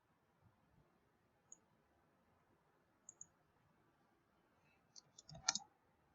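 Computer mouse clicks while adding a page in the Storybird storytelling site, a few sparse quiet single and double clicks in a near-silent room, then a louder cluster of clicks near the end.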